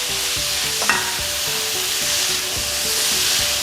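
Vegetables stir-frying with pork and chili paste in hot oil, a steady loud sizzle with clattering stirring strokes and a sharp clink of a utensil against the pan.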